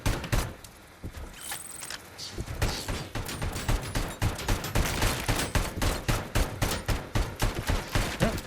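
Gunfire in Robocop: Rogue City starts after a quieter opening, with a brief voice early on, then settles into a sustained volley of rapid, evenly spaced shots that stays loud to the end.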